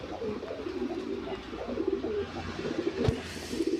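Lahori pigeons at a pigeon farm coo in soft, repeated throaty phrases close by, a steady murmuring rhythm with a brief sharp knock near the end.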